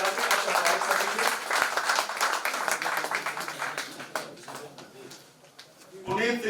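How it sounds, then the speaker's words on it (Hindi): Audience clapping at a Hindi Sahitya Bharati literary gathering, a dense patter of many hands that carries steadily, thins toward the end and swells again briefly. "क्या एक बार दोनों हाथ ऊपर उठा के ताली बजा के स्वागत करेंगे"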